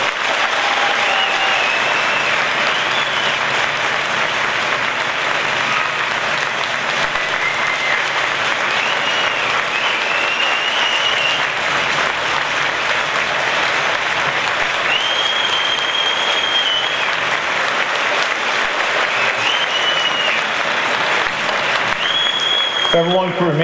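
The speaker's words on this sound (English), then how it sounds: "give a big round of applause for the William Tolley family" Sustained crowd applause fills an ice rink at a charity hockey game between the New York Whalers and FDNY, steady loud clapping throughout with occasional whistles and a few voices rising above it.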